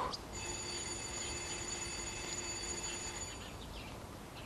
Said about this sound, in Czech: Teď to je telefon.